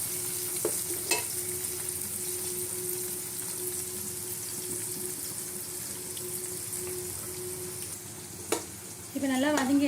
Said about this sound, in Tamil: 3 பச்சை மிளகாய் ஆட் பண்ணிக்கிறேன். புதினா, கொத்தமல்லி 1/4 கட்டுக்கும் கம்மியாக எடுத்து யூஸ் பண்ணுங்கள். நல்லா வதக்கிக்கணும்